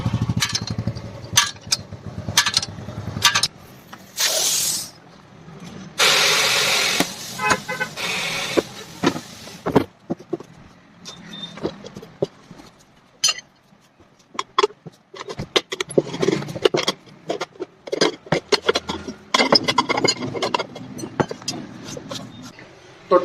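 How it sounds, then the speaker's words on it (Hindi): Tyre being removed from a Honda Shine motorcycle wheel during a tubeless puncture repair: irregular clanks, scrapes and metallic taps in uneven bursts, with a couple of brief louder rasping stretches and some faint talk in the background. "तो चलिए मैं इस टायर को फटाफट से खोल लेता हूँ"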